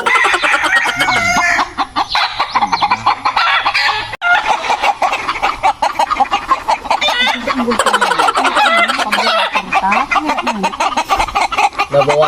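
A crowd of chickens clucking and cackling nonstop, dense overlapping hen calls with occasional rooster crows, loud and close throughout with no talk.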